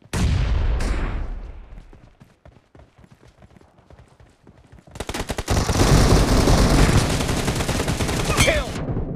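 Gunfire in a BGMI team deathmatch: a loud opening burst, then sparse scattered single shots and clicks, followed by a long, heavy, sustained barrage of rapid automatic fire, with a voice briefly under it.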